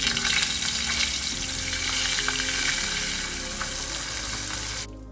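Marinated fish sizzles in a pan, producing a loud, dense, continuous hiss that runs unbroken with no voices and cuts off abruptly at the very end.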